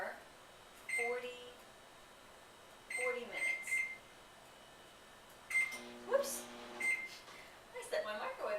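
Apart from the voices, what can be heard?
microwave oven beeping as buttons are pressed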